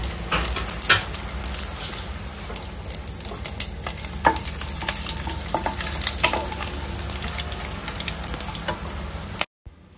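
Whole biryani spices, cloves and cinnamon, sizzle and crackle in hot ghee with steady close frying noise and occasional stirring clatter throughout.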